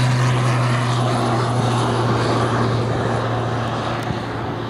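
A training aircraft built in Belfast under licence from Embraer flies past at the 2011 Shoreham Airshow, giving a loud, steady engine drone with a constant low hum that fades slightly as it passes, with no voices.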